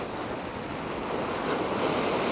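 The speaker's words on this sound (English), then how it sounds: "when you get waves rolling through like this" Ocean waves roll in at a rock fishing spot, a steady broadband wash of surf with wind noise on the microphone, swelling slightly louder toward the end.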